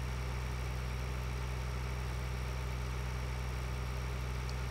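Steady idling tractor engine in Farming Simulator 2013, a constant low rumble with mid-range drone running unbroken throughout, heard alone without speech.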